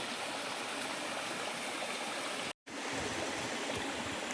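A Konkan river near a village flows steadily at reduced dry-season level, giving a constant rushing, gurgling wash with one brief dropout partway through.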